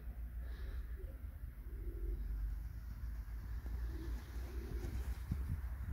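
Soft pigeon coos repeat intermittently against steady low outdoor rumble, faint and somewhat distant.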